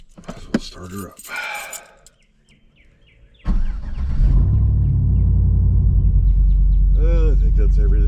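A truck engine cranks and catches, then settles into a loud, steady idle rumble close by. Birds chirp faintly outside, and a voice is heard briefly before the start.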